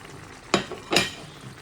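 Hilsa fish pieces dropped into a curry pan of spice paste simmering with water, giving two brief loud sizzling bursts close by, then a quieter bubbling fry.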